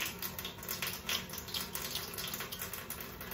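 Tap water runs steadily into a sink during handwashing with soap, a continuous close hiss that holds throughout with no talk.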